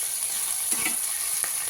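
Finely chopped potatoes fry in oil for batata poha, giving a brief, steady close-up sizzle with a couple of faint stirring clicks.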